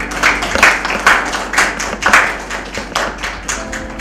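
A studio audience at an Easter television programme claps to welcome guests, loud, close hand claps falling in an uneven rhythmic pulse about twice a second, with no talk.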